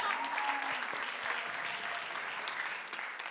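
Sustained applause from a church congregation at a summer young-adults revival service, a dense steady wash of many hands clapping at once, with a few faint voices mixed in.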